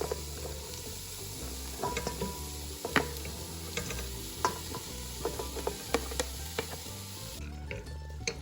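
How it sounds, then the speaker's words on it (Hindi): Vegetables are tipped into a pot of browned chicken, followed by a continuous sizzle and repeated sharp scrapes and clacks of a spoon against the pot, close and fairly loud, with no talking. "वेजिटेबल्स सारी डल गई हैं"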